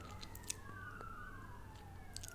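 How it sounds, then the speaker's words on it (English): Faint wailing sirens in the distance, with two rising and falling tones crossing each other over a low hum, a couple of small clicks nearby. "there are a lot of sirens today."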